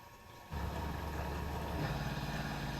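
A Tormach PCNC 1100 CNC mill cutting at a thousand RPM with a 4-flute solid carbide cutter, a steady loud machining drone with a low hum that starts abruptly after a quiet moment and continues without pause.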